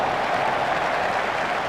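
A cricket crowd at Leeds applauds a shot in a steady, full burst of clapping that stays fairly distant and even throughout, with no voices standing out.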